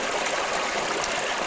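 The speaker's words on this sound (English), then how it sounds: "capture that foreground here with all the water running here" River water rushes over cascades in a steady, close, broadband wash with no pauses.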